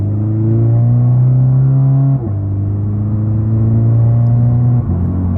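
A modified car exhaust drones loudly and steadily through an acceleration pull, its tone rising through the rev range with two brief dips where the gears shift.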